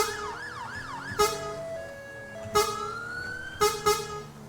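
A fire vehicle siren in the video game FiveM wails and yelps in a rising, warbling pattern, loud and steady, punctuated by several sharp bursts.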